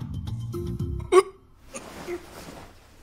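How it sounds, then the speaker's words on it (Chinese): One short, abrupt drunken hiccup or burp pops out loud and close after some low, steady tones, followed by faint rustling. "又是一个酒嗝声"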